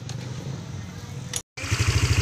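A Honda Click 150 scooter with a restored exhaust stud bolt starts up after a brief silence, then settles into a steady, rhythmic low putter at close range, with no exhaust leak sputter.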